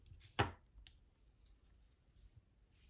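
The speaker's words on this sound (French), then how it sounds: "Et on vient couper notre fil à ras" Crochet yarn is snipped flush with scissors in a quiet room, a single crisp close cut followed by faint handling sounds.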